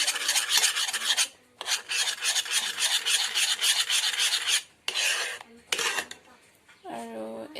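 A spoon scrapes and rubs around a pan on the stove as a homemade keratin hair mix is stirred. Long, gritty rasping strokes come close and loud, broken by short pauses, with a brief voice near the end.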